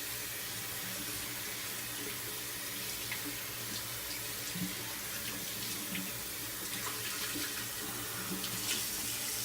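Tap water runs steadily into a sink while a shaving soap puck is rinsed under the stream, a constant, close hiss with small splashy variations throughout.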